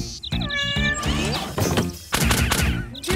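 Cartoon kittens in PAW Patrol meow in a rapid flurry of high, overlapping mews, mixed with clattering bumps and a short crash, loud and busy.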